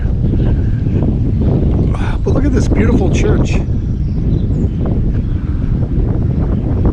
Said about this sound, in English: All of a sudden it's gotten really windy.